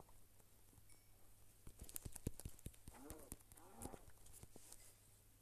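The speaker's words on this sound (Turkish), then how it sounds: "Şu ata bineceğim bakalım ne olacak." Horse hooves in the Minecraft video game clip-clop in a quick, irregular series of sharp taps, with a soft snort-like whinny mixed in, over a faint background hum.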